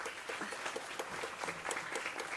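Crowd applause for student volunteers at a marketing conclave, a steady patter of many hands clapping for a couple of seconds, moderately distant and even in loudness.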